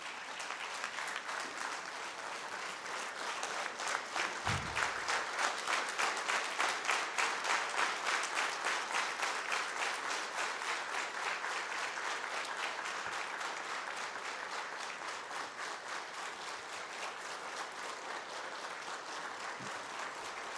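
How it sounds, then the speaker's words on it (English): Sustained, dense applause from an audience giving a standing ovation at a public felicitation ceremony for an advocate, steady and loud for about twenty seconds with rhythmic clapping throughout and no talk. "now can be honored by giving a standing ovation"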